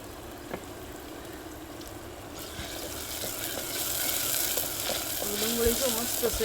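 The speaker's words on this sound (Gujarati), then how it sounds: "ડુંગળી જો મસ્ત તળાઈ ગઈ એકદમ લાલ થઈ ગઈ છે" Salted onions fry in a pan until deep red while rajma is cooked, giving a soft, continuous sizzle that swells gradually, with a few light clinks and faint background noise.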